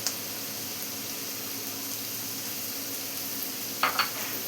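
Onions and salt sautéing in a pan for a green peas egg masala, giving a steady low sizzle with faint stirring scrapes and a couple of brief louder clatters near the end, no voices.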